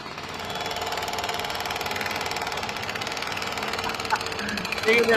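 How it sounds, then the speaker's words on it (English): Jackhammers breaking up pavement rattle steadily and continuously at mid distance, with a voice talking over the din. "Oh, listen to those jackhammers."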